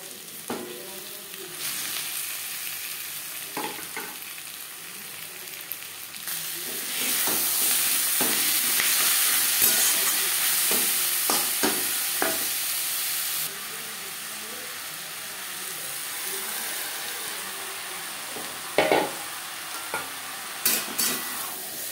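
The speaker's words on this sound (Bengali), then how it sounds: "পেঁয়াজ হালকা করে ভাজা হয়ে গেছে। এই পর্যায়ে দিয়ে দেব ম্যারিনেট করে রাখা চিকেন।" Marinated chicken sizzles loudly in a pan with fried onions, a steady frying hiss that swells when the pieces go in, with repeated scraping stirs and clinks of a spatula, close and alone without talk.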